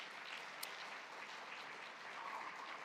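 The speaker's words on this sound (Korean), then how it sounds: "일어서실 때 박수로 환영하도록 하겠습니다" Applause at a Wednesday church worship service welcoming a visiting missionary, a soft, distant, even patter of clapping sustained throughout.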